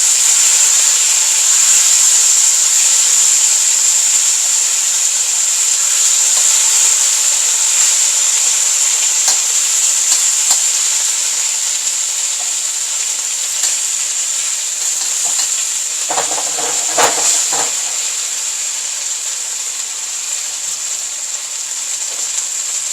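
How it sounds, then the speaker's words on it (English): Seafood and vegetables stir-fry in a hot pan, a loud, steady hiss of sizzling with scattered crackles and a burst of tossing and scraping near the end, heard close with no speech. "Now you're going to put in the seafood."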